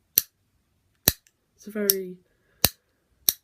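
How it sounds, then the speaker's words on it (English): A high-quality Fidget Cube switch gives crisp, isolated plastic clicks, four sharp snaps spaced roughly a second apart, with a brief stretch of talk in between. "the Fidget Cube switch, the high quality ones, the switch sounds like this"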